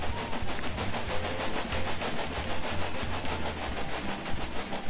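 A train running along its track in the Railway Empire video game, a steady rumbling roll with a low pulsing rhythm and a dense wash of noise, held at an even level throughout with no talk.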